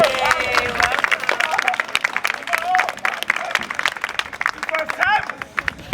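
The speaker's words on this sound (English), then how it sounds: "Give them a round of applause" An outdoor crowd on a mountain summit claps and cheers for first-time climbers, a scattered burst of hand claps mixed with whoops and voices calling out over the applause.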